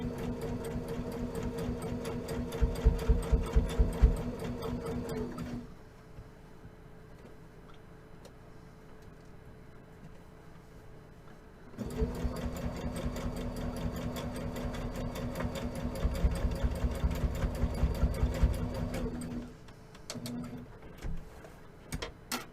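A sewing machine stitches across tote bag straps in rapid, steady bursts, running for several seconds, pausing into near silence, then starting again for a longer run before a few final clicks.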